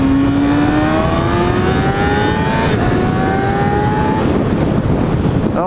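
A 2016 Kawasaki ZX6R with an M4 exhaust screams loud and close, its whining engine tone climbing steadily through the revs with a brief dip for a gear change before rising again.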